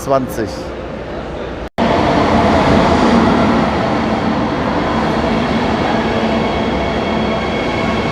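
A train rolls through Siegburg/Bonn station with a steady, loud rumble of wheels and cars that fills the whole stretch after a short break near the start; a voice is faintly audible early on.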